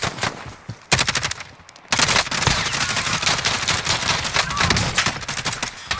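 Sustained bursts of rapid automatic gunfire in Call of Duty Warzone, loud and close, with a brief pause before the firing resumes and continues steadily.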